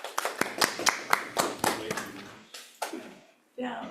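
A small group claps at a city budget and finance committee meeting, a short burst of sharp, close hand claps that thins out over a few seconds before a voice begins speaking.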